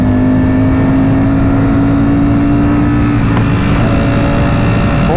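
Ducati Panigale V4 (2023) or Aprilia RSV4 (2022) sport bike accelerating, a loud, close engine whine rising in pitch with strong steady harmonics and wind rush, briefly shifting near the end.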